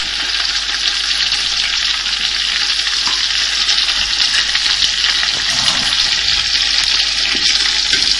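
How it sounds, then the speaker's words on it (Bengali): Onion paste and spices frying in oil for a quail roast, a loud, continuous dense sizzle that holds steady throughout without any talking. "আমি এটাকে মশলাটাকে ভালোভাবে ভেজে নেব"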